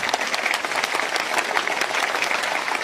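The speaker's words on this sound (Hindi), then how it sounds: "पाकिस्तानियों के लिए ताली" Crowd clapping at a Pakistani political gathering, a steady dense patter of many hands lasting a few seconds, loud and continuous with no pause.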